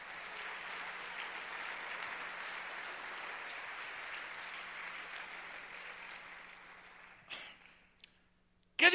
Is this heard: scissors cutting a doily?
no